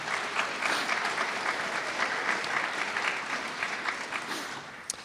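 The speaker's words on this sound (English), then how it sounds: "let's have a round of applause for Sherry" Sustained applause from an audience at a university law school first-year welcoming ceremony, even, dense clapping at moderate distance that tapers slightly toward the end.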